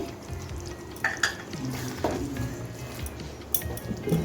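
Eggplant and paneer curry with garam masala being stirred in a hot pan, with a steady sizzle of frying, scraping strokes and occasional light clinks of the spoon against the metal, heard close up with no voices.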